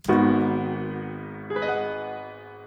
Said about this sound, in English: the second piano that's layered the same exact chord progression is this Stage Grand Light from Flex